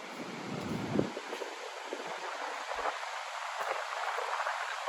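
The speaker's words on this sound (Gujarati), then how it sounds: "પવન એવો સરસ આવે ઠંડો ઠંડો." Cool sea wind blows at the seashore, buffeting the microphone in soft rushing gusts with a faint surf wash beneath, fairly quiet and steady throughout.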